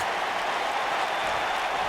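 An arena crowd in the WWE 2K19 wrestling video game roars steadily, a dense, continuous wash of cheering with no breaks.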